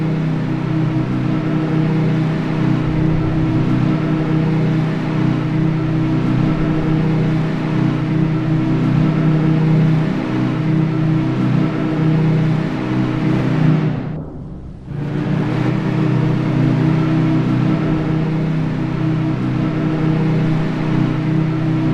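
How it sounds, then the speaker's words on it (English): The whistle of the sinking White Star liner Britannic sounds the abandon-ship signal: two long, steady, droning blasts, the first held for roughly fourteen seconds and then a brief break before the second carries on, loud and continuous. "2 long blasts of the whistle."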